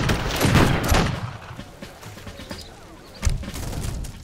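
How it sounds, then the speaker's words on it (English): Musket and rifle volleys ring out in a battle in Age of Empires 3, with a burst of crackling shots early on, a quieter stretch of scattered reports, then another sharp volley near the end. "Sir, open fire!"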